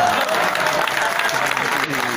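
Audience applause fills the hall at a religious discourse gathering, a dense, steady clapping from a seated crowd that carries on without pause, with a faint voice beneath it.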